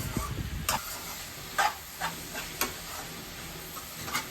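Onions frying in a pan with turmeric and salt give a soft, steady sizzle, broken by a few light clicks and scrapes of stirring, quiet and close, with no talking.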